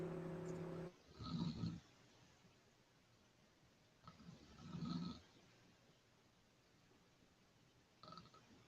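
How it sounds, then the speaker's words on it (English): A person snores in slow, rhythmic cycles, with three low rumbling inhalations spaced a few seconds apart, faint and distant as if picked up through an open call microphone. "We got dual snoring going on."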